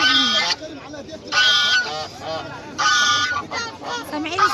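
Ornamental geese at a market honk loudly in repeated bursts, about four distinct blasts with shorter calls and rustling in between, close by and dominating the scene.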